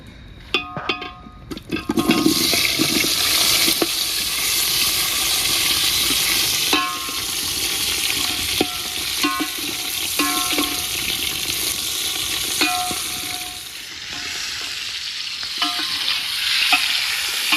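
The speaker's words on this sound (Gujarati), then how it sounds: "તો હવે આપણે જે કેરીએ પર કટિંગ કરી હતી એ હવે અંદર નાખી દઈશું" Cut pieces of raw mango go into a hot oiled pan and are stirred, with a sharp clattering drop at the start, then a steady sizzle under repeated ladle scrapes and clinks against the pan, close and without talking.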